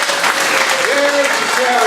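An audience at a club meeting applauding a speaker, a brisk burst of clapping close by, with a voice talking over it.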